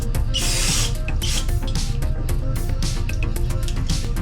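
Aerosol can of carburetor cleaner spraying onto a Holley carburetor, a loud steady hiss running throughout with brief surges and taps over a constant background noise.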